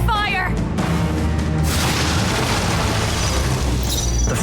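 A Raging Fire spell attack in Metaphor: ReFantazio erupts as a loud roaring blast, a dense sustained rush of burning noise after a short opening flourish, with a bright shimmering tail at the end.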